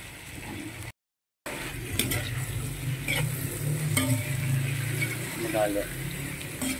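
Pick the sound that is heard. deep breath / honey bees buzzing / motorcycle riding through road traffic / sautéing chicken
sautéing chicken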